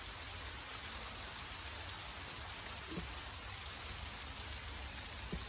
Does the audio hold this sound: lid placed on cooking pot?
no